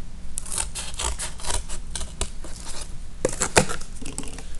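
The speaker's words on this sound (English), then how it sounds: "So I'm going to cut those away and take my pair of scissors." Quick crisp snips and rustles of cutting, irregular bursts close up, with paper or material being handled between cuts.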